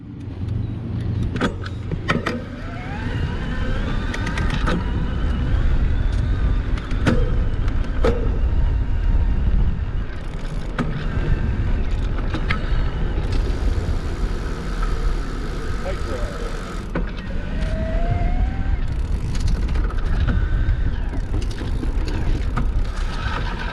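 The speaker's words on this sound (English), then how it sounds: "I'll turn down the mechanical gearing so you can kind of hear how the system reacts to having no tension on the gears" A 2019 FLX Roadster electric bike rides over a cement area with its gears under no tension, producing a continuous motor and drivetrain whir with rattles and whines over steady outdoor rumble.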